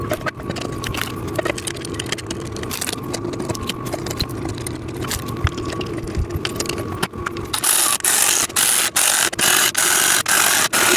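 A ratchet tightening bolts and nuts while a VEVOR sissy squat machine is assembled, with steady close clicking and mechanical rattling throughout that turns brighter and louder in the last few seconds.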